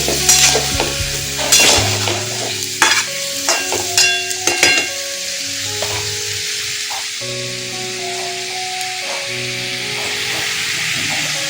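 Jackfruit pieces seasoned with salt and turmeric fry in a pan, with a steady loud sizzle and clattering stirring strokes early on that settle into continuous frying.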